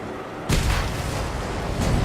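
A shotgun blasts once in a driving video game, a loud broadband boom that decays into a sustained rumbling roar, with a fainter second burst near the end.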